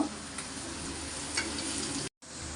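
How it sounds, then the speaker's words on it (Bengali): Onion and salt frying in hot oil for a katla fish curry give a steady, dense sizzle that runs throughout, close and loud, with a brief cutout near the end and no voices. "এই তেলের ভিতরে এখন পেঁয়াজ দিয়ে দেব লবণ দিয়ে দেব"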